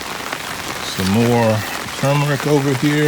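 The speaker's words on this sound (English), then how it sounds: "the rain's starting to pick up" Rain falls steadily on a garden of potted turmeric, a soft constant hiss beneath someone talking close by.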